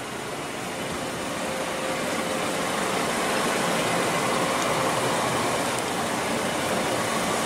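A 2015 Mercedes-Benz C300 4MATIC idles after start-up with a steady, even engine hum, close and continuous with no voices.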